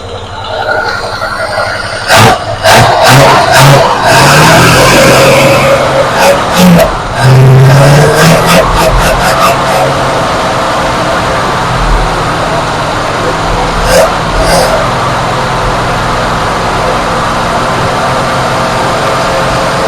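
An old 1977 Buick Electra engine, revived after sitting since 1992, runs and revs, rising and falling as it pulls away and accelerates, with scattered clicks and brief voices in the background.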